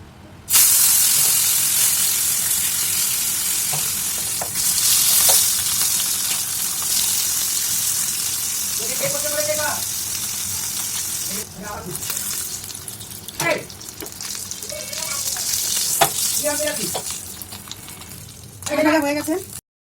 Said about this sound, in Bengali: তেল গরম হয়ে গেছে, এবার মাছটা দিয়ে দেবো।